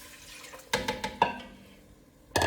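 Water is poured into a pan of onions for Greek turkey meatballs with orzo, giving a short burst of splashing and trickling with a few sharp clinks, then a brief splash at the end.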